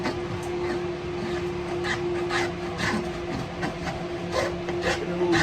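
A spokeshave shaves wood from a guitar neck in steady, scraping strokes, close and fairly quiet, with a low hum underneath.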